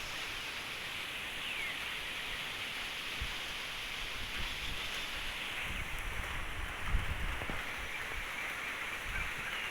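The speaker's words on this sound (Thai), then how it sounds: "ก็มาถ่าย บรรยากาศฝนกำลังจะตกนะครับ" Rain beginning to fall outdoors over a garden of planted vegetables: a steady, faint broadband hiss runs throughout, with a few soft low thumps and no voices.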